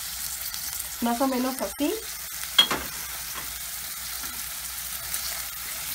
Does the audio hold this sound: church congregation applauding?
no